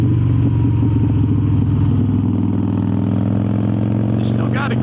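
A 2003 Harley-Davidson Softail Standard cruiser rumbles along under way, its loud, low engine drone steady and close throughout. A rider talks over it, and a brief clatter cuts in at the very end.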